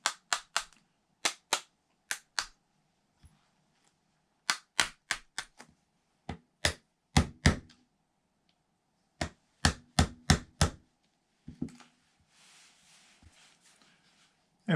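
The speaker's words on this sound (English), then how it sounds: "Nylon mallet." A nylon mallet taps a pin into a Springfield XD pistol while a Crimson Trace laser grip is fitted, giving sharp, close knocks in quick clusters of two to four with short pauses between them.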